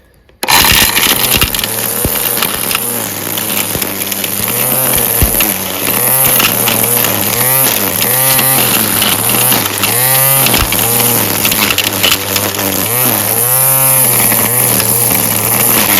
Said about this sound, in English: So now let's see how it trims as far as using it as a weed eater goes.